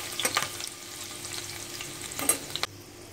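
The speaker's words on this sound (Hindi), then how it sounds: "तेल गर्म हो चुका है, अब हम इसमें डालेंगे लहसुन, हरी मिर्च," Chopped garlic and green chili frying in hot oil in a home kitchen pan, with a soft continuous sizzle and a few sharp stirring scrapes, no talking.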